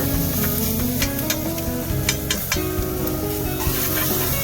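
Steady sizzling of chopped peppers frying in a hot pan inside a van, with repeated scraping and clinking as they're stirred throughout.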